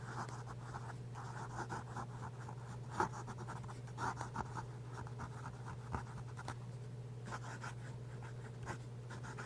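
Fountain pen nib with black ink scratching across paper in a quiet room, a steady near scratching with brief louder strokes as letters are formed, under a constant low hum.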